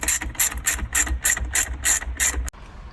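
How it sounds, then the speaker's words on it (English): Rapid bursts of ratchet clicking, about nine quick pulses in a steady rhythm, from a ratchet wrench unscrewing the radio mounting bolts in a Jeep Wrangler dashboard. The clicks are close and loud, then stop abruptly, with no talking. "you're going to unscrew those bolts"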